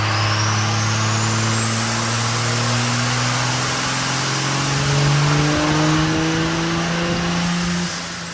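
A diesel truck engine with a VP44 injection pump revs during turbo testing on a 67/70 turbo, a loud, sustained climb in pitch that holds high and then drops off near the end, heard up close with no voices.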